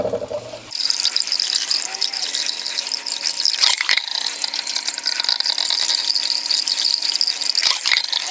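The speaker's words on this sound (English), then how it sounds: "now that our rice is rinsed" Tap water runs steadily over sushi rice being rinsed in a home kitchen, a continuous close splashing hiss with a brief pause and a few clatters near the end.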